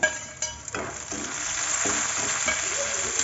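Chopped onions and tomato sizzle steadily in a pan, with a few scraping stirs near the start, close and continuous without talk.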